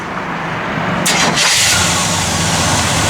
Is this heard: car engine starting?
yes